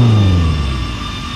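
A loud Opel Kadett C 16V racing car engine whines and drops in pitch as it decelerates in the Assetto Corsa video game, with no one talking.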